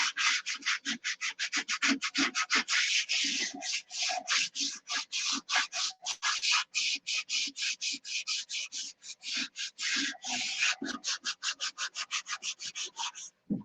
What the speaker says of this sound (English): So much sanding, it's ridiculous.